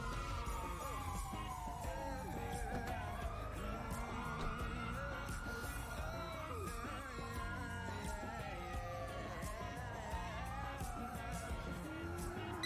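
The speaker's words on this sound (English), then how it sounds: "You can hear sirens nearby." Police sirens in the game GTA, several wailing tones rising and falling and overlapping at moderate distance, sweeping repeatedly over a busy street background of traffic and crowd noise.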